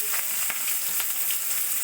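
Chopped onion fries in oil with whole cumin in a kadai, producing a close, steady, hissing sizzle with faint intermittent crackles and no voices.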